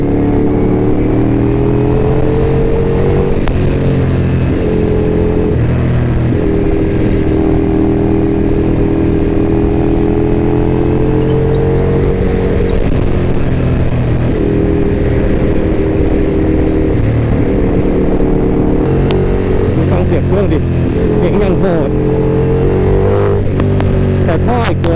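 A loud engine with a Termignoni aftermarket exhaust drones and revs steadily from inside or near the V4S, its pitch rising and falling, while someone talks over it.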